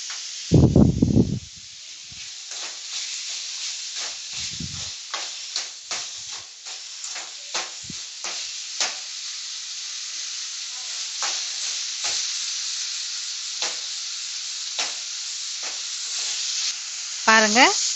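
Tomatoes with a little salt sauté in a pan on the stove for a Tamil hotel-style salna: a steady close sizzle of frying with scattered clicks and scrapes of stirring and a couple of louder knocks.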